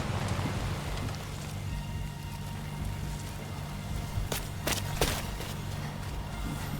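Steady rain falls in the video game Death Stranding 2, a constant hiss of drops with a low rumble beneath and a few sharper splashes or knocks near the end.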